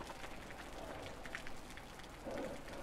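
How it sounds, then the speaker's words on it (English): Steady rain patters across surfaces in the survival game Osiris: New Dawn, a constant moderate hiss of droplets with no voices. "God, the rain."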